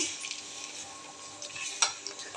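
Steady bubbling and hissing of fish curry simmering in a pan, with occasional soft clinks and stirring sounds; no voices.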